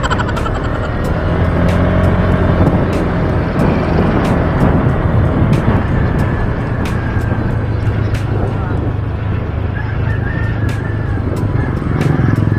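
Road traffic on a provincial road during a town fiesta, heard as a steady, loud, continuous rumble of passing engines with no breaks.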